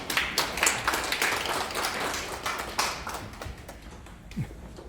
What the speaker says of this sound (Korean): 참 박수로 모시겠습니다.